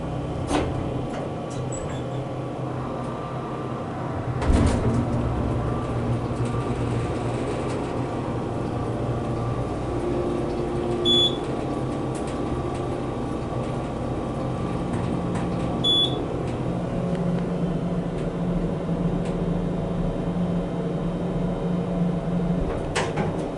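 Steady low mechanical hum of an Otis hydraulic elevator motor running in a Comfort Inn & Suites, continuous and close, with a brief bump and a few faint clicks.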